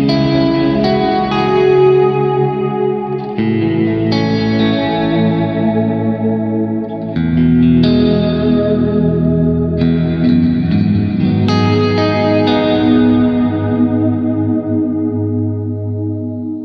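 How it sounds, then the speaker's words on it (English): Electric guitar chords ring out one after another, each swelling into a long, washy ambient reverb tail with shimmering chorus-like effects, loud and continuous. "my main ambient reverb is gonna be this one right here"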